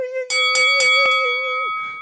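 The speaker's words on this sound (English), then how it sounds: "hit that notification bell, something like this, bing" A bright bell-like tone sustained for under two seconds, with three quick ringing strikes and one sharp hit over a steady hum, close and fairly loud. It is used as a notification bell sound effect on a morning talk show.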